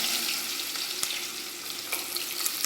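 Onions hit hot oil already holding cinnamon, cloves and bay leaf in a pan for a Kadaknath chicken curry, giving a bright, steady hiss with occasional sharp crackles, fairly faint and with no voices.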